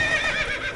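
Horse neighing in The Witcher video game, a single close, loud whinny that lasts under a second, with no voices.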